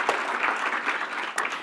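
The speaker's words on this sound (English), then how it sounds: "big round of applause for their sharing their story" An audience claps in a steady, dense burst at a talk or panel event, continuous even applause filling the hall without pause.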